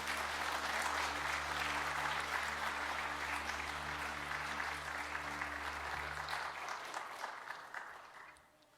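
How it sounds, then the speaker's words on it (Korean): A church congregation at a Korean Sunday service claps to welcome the pastor, a dense burst of many hands over a low sustained organ or keyboard tone, fading toward the end. "힘차게 박수함으로 목사님을 맞이하겠습니다"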